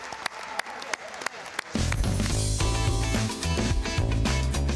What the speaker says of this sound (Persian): تشویق کنید آقای فتحی رو